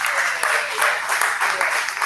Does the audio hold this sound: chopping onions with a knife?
no